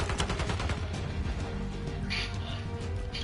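Multiplayer gunfire in the video game Black Ops 6, rapid automatic bursts and overlapping shots running steadily throughout the short stretch, loud and busy with no talking.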